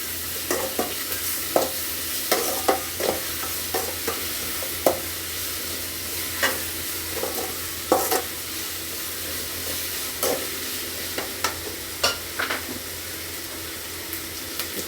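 Close, steady sizzle of onions, ginger, garlic and tomato sautéing in a pan for kichadi, broken by irregular clicks and scrapes as a spoon stirs against the metal.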